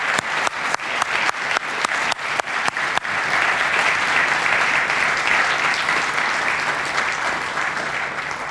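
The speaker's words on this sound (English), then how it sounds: "Can we please give a tremendous round of applause to these candidates" Audience applause for candidates at a town-hall discussion, opening with a few distinct near claps that merge into steady, sustained clapping from the whole crowd.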